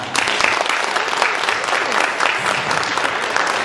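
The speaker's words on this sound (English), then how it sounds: "Let's give them a round of applause" Brisk, full applause from a theater audience at a community event, continuous dense clapping close to the mic for a few seconds.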